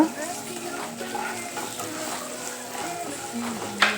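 Curry leaves fry with turmeric and salt as a spoon stirs them, giving a continuous soft sizzle with scraping strokes, and a voice talks over it throughout.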